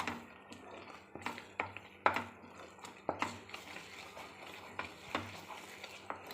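Halwa stirred steadily in a pan over heat, a spoon or ladle scraping and knocking against the metal in irregular strokes with a faint sizzle underneath, close and fairly quiet.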